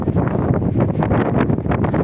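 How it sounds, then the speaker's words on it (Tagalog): Strong typhoon wind whipping across a vegetable garden, loud rushing gusts buffeting the microphone in uneven surges over about two seconds, with no voices. "Ang ating gulay ay halos matumpa sa sobrang lakas ng hangin"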